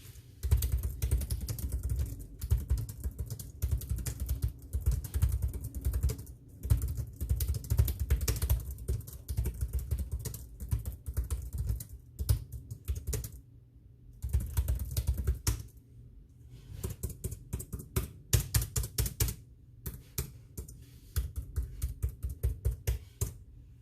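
Fingers tap out a typing test on a Logitech K380 keyboard, a close run of quick, light clicking keystrokes in uneven bursts with short gaps between them.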